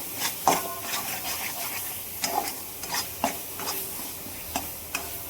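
Mutton being stirred and mixed with spices in a hot pan, with a low sizzle underneath and irregular scraping and clacking strokes of the spoon against the pan at close range.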